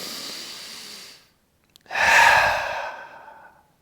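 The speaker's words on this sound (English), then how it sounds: "Take a deep breath in through the nose. Open mouth. Exhale." Deep yoga breathing heard close: a drawn breath in that fades, a short pause, then a loud, long open-mouth exhale that slowly trails off.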